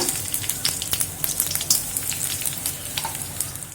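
Steady sizzling and crackling of sliced garlic frying in hot oil, with scattered pops, close and continuous throughout.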